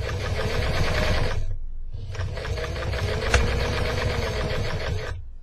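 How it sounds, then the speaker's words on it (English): A sewing machine with a binder foot stitches bias binding at a long stitch length, a loud rapid mechanical whirring run that stops briefly, then resumes for a second steady burst before cutting off. "So I'm going to just keep sewing."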